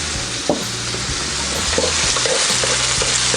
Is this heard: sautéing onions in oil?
yes